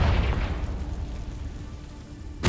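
A Confringo explosion spell bursting in Hogwarts Legacy: a loud, rumbling blast that decays over about two seconds, followed by a sharp new burst at the very end.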